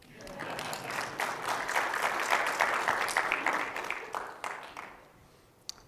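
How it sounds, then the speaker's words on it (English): Audience applause at a tech conference session, a swelling patch of scattered clapping that builds to a peak and then tapers off, fairly quiet and distant, ending with one sharp clap. "You guys can clap if you want."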